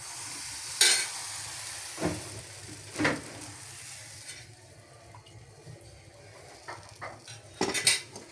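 Roll-sheet batter cooks in a small frying pan on a home stove: a faint, steady sizzle with a few sharp clinks and knocks of utensils against the pan scattered through it.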